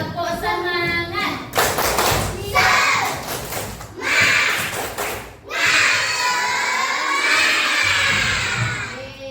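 Schoolchildren at an elementary school in Kaliuntu, Indonesia, clap in bursts and shout along in a rhythmic classroom chant, loud and lively with several pauses between rounds.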